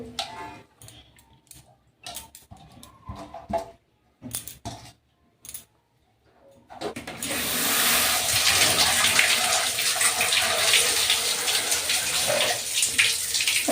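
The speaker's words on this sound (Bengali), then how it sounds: "আমি পালংটা তুলে নিয়েছি, ঠান্ডা জলে এটাকে ধুয়ে নেব" Spinach being washed under cold running water, with a few short splashes and clinks at first, then a steady loud rush from the tap for the rest of the clip, no voices.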